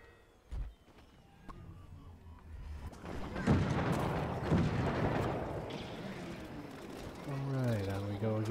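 Cannon fire during a match of Plants vs Zombies Garden Warfare 2: a sharp boom, then heavy rumbling blasts and dense battle noise that build into a loud, sustained wash.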